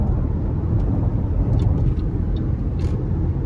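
A 2011 Range Rover HSE with its 5.0 V8 accelerating, heard from inside as a loud, steady low rumble of engine and road noise with small clicks on top.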